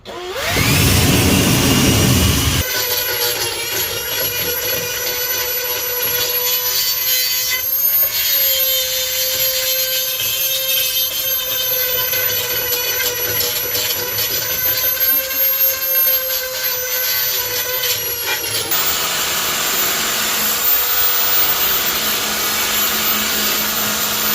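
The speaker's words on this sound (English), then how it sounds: "So I think I'm at a good stopping point with the Dremel." Dremel rotary tool grinding on the passenger-side outer pillar of a K-swapped Honda CRX body, a steady, loud high-pitched whine that runs almost continuously after a brief opening, with no talk over it.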